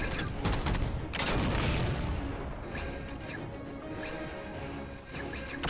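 Halo 4 weapon fire: a loud burst of rapid gunshots and crashing impacts at the start, easing into quieter scattered shots and clanks afterward, with no voices.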